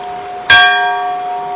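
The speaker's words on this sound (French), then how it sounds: "Je vais attendre que la cloche elle arrête." A church bell strikes once at noon, loud and close, its bright metallic ring and overtones hanging and slowly fading, with no talk over it.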